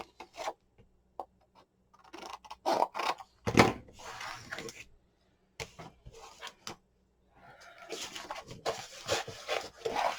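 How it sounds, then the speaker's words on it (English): A tool burnishes score lines on paper for a mini album, making quiet, close rubbing and scraping strokes in short bursts with pauses between them, followed by a longer run of rasping passes. "Burnish over your score lines."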